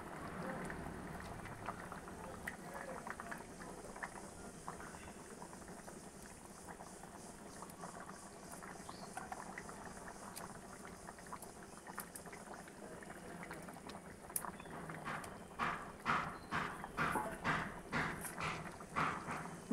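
Fish curry with potato and eggplant bubbles steadily in a pot, a continuous close simmering hiss with popping bubbles that grow louder and more distinct toward the end.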